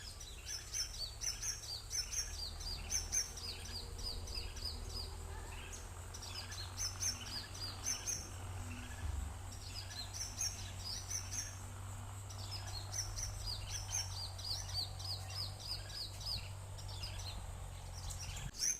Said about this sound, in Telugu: పక్షులన్నీ ఎర్లీ మార్నింగ్ మా ఇంటి చుట్టూ సందడి ఏ విధంగా ఉందో చూడండి మీరే